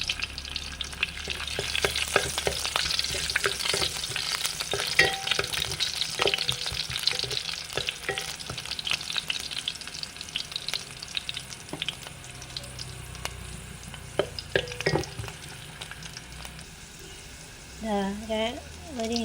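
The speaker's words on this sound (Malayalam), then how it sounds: "നന്നായിട്ട് ഇളക്കി കൊടുക്കാം." Green chili, garlic and ginger sizzle and fry in a pan for prawn curry, stirred with steady scraping and clinking strokes through most of the clip, close and fairly loud, with the sizzle easing near the end.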